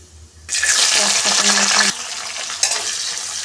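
Whole garam masala and bay leaves dropped into hot oil, a loud sudden sizzle bursting in after a brief quiet start, then a steady crackling hiss that eases slightly and keeps going.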